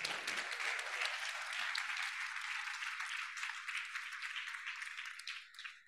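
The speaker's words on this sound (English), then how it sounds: "I invite you for a big, loud round of applause to these people." Steady applause from a conference audience at a digital health event's closing ceremony, a dense, bright patter of many hands clapping that holds evenly throughout and begins to thin slightly toward the end.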